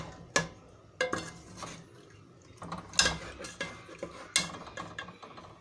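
Small potato pieces tumble into a pan of tomato masala and get stirred, giving a string of sharp spoon-on-metal clinks and scrapes at irregular intervals, close and fairly quiet.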